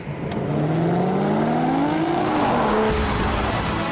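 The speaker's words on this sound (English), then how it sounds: "And those exhaust valves still sound just as good." An Aston Martin DBS with an automatic gearbox and a 6-litre V12 roars loudly as it accelerates, its exhaust note rising and shifting in pitch with a hint of tire noise, close and continuous with no talking.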